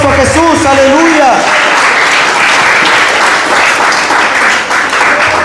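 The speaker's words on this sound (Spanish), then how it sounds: "Denle un fuerte aplauso a Jesús." Church congregation at a sermon breaks into loud, sustained applause with cheering, continuous and dense throughout, as a voice calls out briefly at the start.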